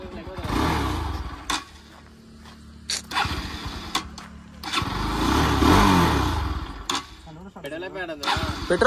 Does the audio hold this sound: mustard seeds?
no